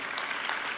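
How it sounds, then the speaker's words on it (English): Audience applause at the CPAC 2013 conference: a dense, steady wash of many hands clapping in a large hall, continuous and fairly distant, with no voices over it. "let's give them a round of applause"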